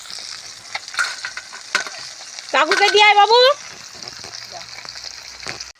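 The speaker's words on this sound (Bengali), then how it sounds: "মাছ ভাজা শুরু করছি আপনাদের অনুমতি নিয়ে" Murola fish fries in a pan with a steady, close sizzle throughout, while a person speaks briefly and a high, wavering child's or adult's voice cuts in over the frying midway.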